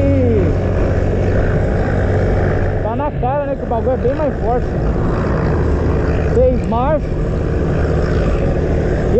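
A close motorcycle engine runs and revs on a 2023 Fazer 250 or CB 300F Twister, with rising and falling revs in the middle as someone talks over it.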